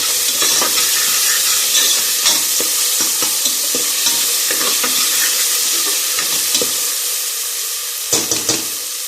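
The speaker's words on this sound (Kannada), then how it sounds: "ಉಪ್ಪು ಹಾಕೊಂಡು ಚೆನ್ನಾಗಿ ತಿರುಗ್ಕೊಳ್ಳಿ." Tomato and onion fry in oil with salt as a spatula stirs them steadily, a dense close sizzle broken by repeated scraping strokes and a few louder clacks near the end; no voices.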